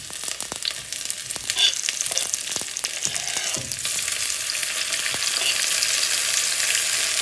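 Onions sizzle and fry in hot oil in a pot for a Yemeni lamb shank soup, with a steady bright crackle throughout and occasional stirring clatter in the foreground.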